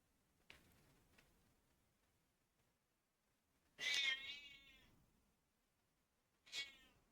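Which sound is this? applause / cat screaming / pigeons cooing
cat screaming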